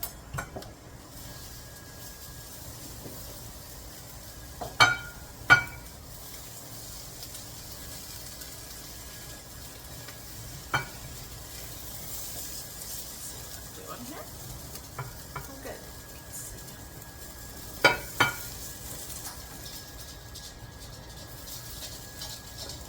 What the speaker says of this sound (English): Keep stirring up your sauce a bit.